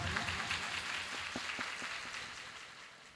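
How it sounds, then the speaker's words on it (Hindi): A gathering at a Jain religious ceremony claps for itself, a soft, distant wash of applause with a few distinct claps standing out, fading gradually toward the end. "बधाई के लिए खुद ही ताली बजा लें।"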